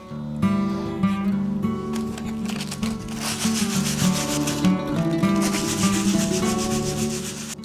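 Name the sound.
sanding laser-cut wood to remove burn marks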